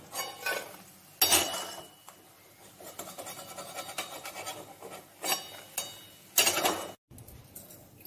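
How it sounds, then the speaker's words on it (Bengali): Fried snails being scraped and lifted from a pan in a village kitchen, giving repeated rasping spatula scrapes and light metallic clinks in short bursts, close by, with a brief pause near the end. "আমি এবার তুলে নিচ্ছি শামুক ভাজাগুলো।"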